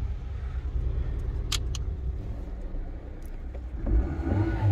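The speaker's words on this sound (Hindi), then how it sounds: "इंजन की साउंड काफ़ी ज़बरदस्त साउंड है इसमें, बिल्कुल ओके इंजन है।" Toyota Vitz 2009 with a 1300cc engine runs steadily nearby, a low continuous rumble with a slight rev swell near the end and a few faint clicks over it.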